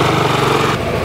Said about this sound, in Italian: Comunque è venuto Dario, vi faccio vedere lo scooter